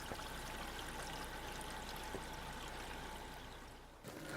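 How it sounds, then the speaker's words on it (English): Stream water trickles through a 3-inch line in the woods, a soft, steady rushing gurgle heard up close and alone, fading slightly before a brief bump near the end. "if you listen carefully, we can hear the water trickling through the line."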